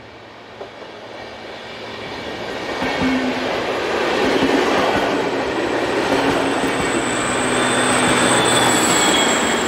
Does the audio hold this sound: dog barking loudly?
no